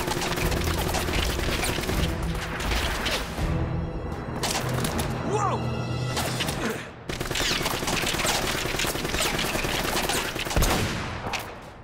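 Video game gunfire in Uncharted: dense, rapid bursts of shots keep up almost without a break across the whole stretch, loud and busy, with thumps and a player's voice mixed in.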